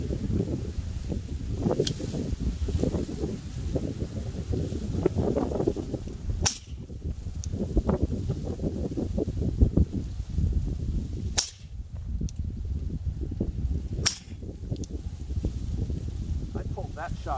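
Three sharp, spaced suppressed shots from a Glock 19 Gen 4 pistol ring out at a long-range outdoor shooting spot, under steady wind noise and someone talking.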